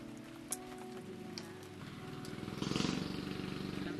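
Soft, steady rain pattering on a surface at a campsite during dinner, with a low hum of voices and a faint engine-like drone underneath.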